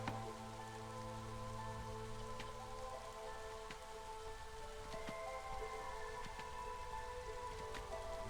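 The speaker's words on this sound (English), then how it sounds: "Rainy weather." Steady rain in the video game Against the Storm, a continuous soft patter over a low ambient game hum with occasional faint drops, no talk.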